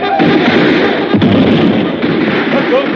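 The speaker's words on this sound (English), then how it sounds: "Fire all the cannon." Heavy booming blasts of army cannon fire roll out in a continuous loud barrage, with one sharp report standing out midway, from a 1943 radio drama.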